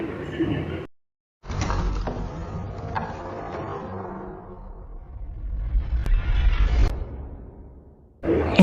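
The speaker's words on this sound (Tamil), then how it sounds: "இப்போ உனக்கான 2வது கதவு திறக்க போகுது" A cartoon door slides open in a ghost museum with a long, low rumbling scrape and a brief break near the start, rising in strength before a sharp cutoff.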